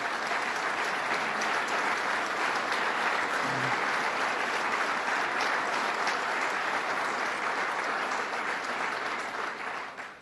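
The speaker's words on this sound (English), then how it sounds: "I'd ask them to stand once again so we can give them a round of applause for a job well done" Sustained applause fills a hall as legislators stand to be recognized at a New York governor's budget address in Onondaga County, a dense, even wall of clapping that carries on for the whole stretch before tapering at the end.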